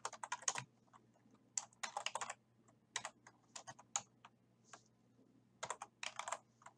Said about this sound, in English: type the following address